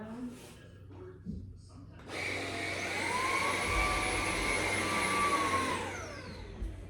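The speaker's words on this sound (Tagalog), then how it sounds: "Nakabago na tayo ng vacuum." A chargeable cordless vacuum cleaner starts with a rising whine, runs steadily at a high-pitched roar for several seconds close by, then winds down as it is switched off.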